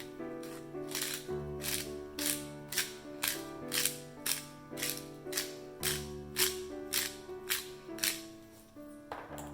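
A pepper grinder cranks over marinated chicken for Korean honey butter fried chicken, giving about a dozen evenly spaced, crisp grinding bursts against soft background music.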